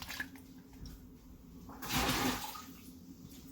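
Running water rinses a reusable bag, a steady wash of splashing with a louder, fuller gush near the middle before settling back, close by with no talk.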